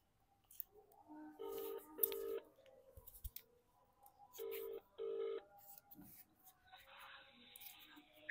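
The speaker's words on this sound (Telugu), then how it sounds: "ఫోన్ చెయి." A phone call is placed: two pairs of steady electronic ringback tones sound, each pair a pair of short beeps with gaps between, faint and close, with small handling clicks around them.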